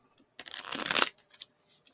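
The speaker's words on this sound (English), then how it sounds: "And one more shuffle" A quick riffle of tarot cards being shuffled, a soft papery burst lasting about half a second, followed by a few faint taps.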